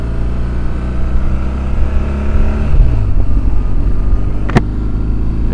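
A 2007 BMW 1200GS motorcycle engine running at slow riding speed, a steady low rumble close by with a slight shift in tone midway and a brief sharp click near the end.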